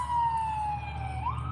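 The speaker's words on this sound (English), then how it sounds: "Ambulance." Ambulance siren wailing at a distance, a single tone sweeping slowly down then back up, faint under steady road noise.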